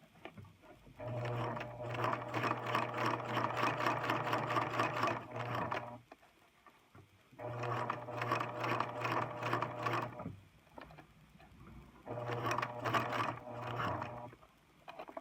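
A sewing machine stitches a flat seam on a project bag in three steady bursts of rapid rhythmic whirring, separated by short quiet pauses.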